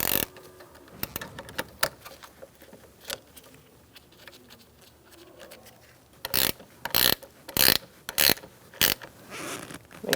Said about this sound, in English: Put your negative battery terminal on, push down, and tighten it up.